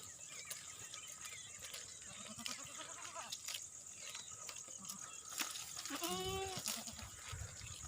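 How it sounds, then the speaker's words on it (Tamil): A herd of goats on a farm at Ettayapuram bleats intermittently over steady outdoor background noise, with one clear, close bleat standing out near the end. "ஆடுகளை பாருங்கள்"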